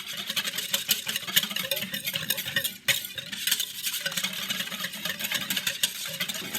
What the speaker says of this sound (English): whisk that all together